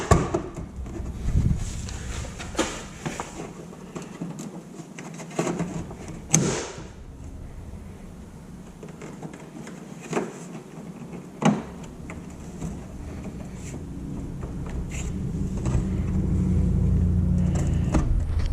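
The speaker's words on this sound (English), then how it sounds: "now slowly pry your bumper outside of it" A plastic bumper cover is pried loose on a 2012-2014 Toyota Camry, with scattered creaks, knocks and sharp plastic clicks. They come at irregular intervals against a quiet background, close by, and a low rumble builds toward the end.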